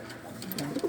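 A racing pigeon coos softly from close by in a short, low burst, with faint background noise around it.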